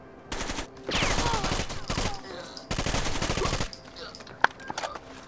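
Rapid gunfire bursts in the shooter game Rainbow Six Vegas 2, loud machine-gun volleys in two long stretches with a sharp single shot near the end, with players talking over the action.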